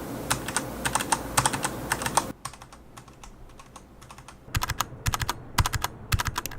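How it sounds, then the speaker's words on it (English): Keystrokes on a mechanical keyboard fitted with a rubber bumper under the keycap: a loud burst of rapid clacks, then a quieter run of softer, damped taps, then loud clicks again, close up with no talking. "And lastly, the keycap with the bumper."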